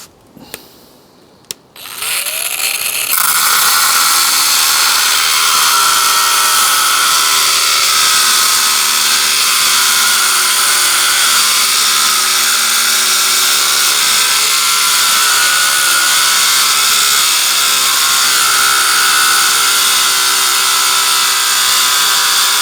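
A Parkside cordless mini angle grinder starts after a few short taps and then whines loud and steady as it cuts through a thick piece of alloy, close up and unbroken for about twenty seconds.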